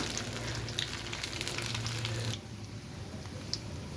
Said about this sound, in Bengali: এই যে আমি কিন্তু খুব ধীরে আঁচ দিয়ে ভেজে নিচ্ছি।